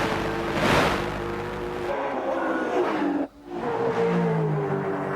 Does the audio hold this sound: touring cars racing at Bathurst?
yes